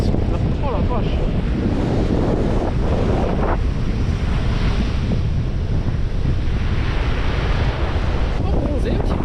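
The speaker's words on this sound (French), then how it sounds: "Aujourd'hui, il y a du vent" Strong wind buffets the microphone on a southern French beach, a steady low roar with surf washing beneath it and no clear speech.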